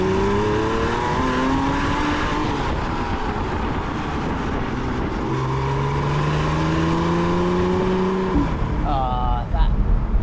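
A Porsche 987 Boxster Spyder accelerates hard, its engine note climbing steadily through the gears in long rising sweeps, loud and close throughout, with a brief shift break near the end.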